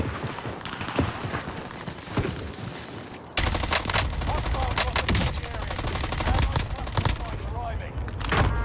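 Rapid bursts of gunfire in a battle royale shooter, a sniper rifle among the weapons, crack out in dense volleys that intensify after a sudden cut, with a voice faintly under them.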